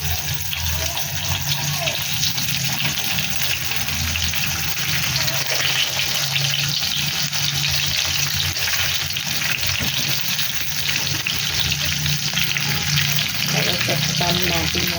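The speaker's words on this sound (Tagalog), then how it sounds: "Init na tayo ng mantika para naman dito sa ating talong at saka sa spam" Eggplant and Spam fry in hot oil with a steady, loud sizzle that crackles without pause throughout, along with faint clinks and stirring underneath.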